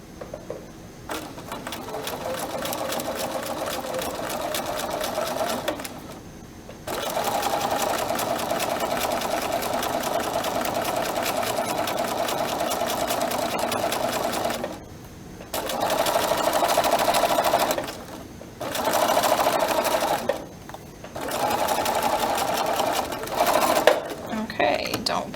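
A sewing machine stitches a seam along the presser foot edge in long steady runs, stopping briefly several times before starting again, with a close mechanical whir.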